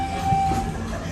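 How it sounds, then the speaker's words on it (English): Riding aboard the open-air train to Rafiki's Planet Watch at Disney's Animal Kingdom, a steady close rumble of the moving cars with a faint tonal whine over it, no voices. "We are on the train."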